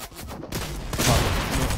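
Loud, dense gunfire from the video game Fortnite, a heavy shotgun match, with shots crackling close and continuous through the clip, growing heavier in the second half.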